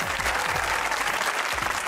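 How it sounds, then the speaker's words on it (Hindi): A studio audience on a Pakistani comedy talk show claps in a dense, continuous burst of applause, loud and close throughout the short stretch. "तालियां"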